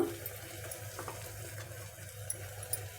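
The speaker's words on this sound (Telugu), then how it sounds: "ఇప్పుడు ఆయిల్ తేలుతుంది కదా ఇప్పుడు మనం ఇందులో కరివేపాకు అందులోనే చిటికెడు పసుపు" Curry leaves and a pinch of turmeric hit hot oil in a kadai while making kadai paneer, giving a soft, steady crackling sizzle with scattered small pops, fairly quiet and close, with no talking.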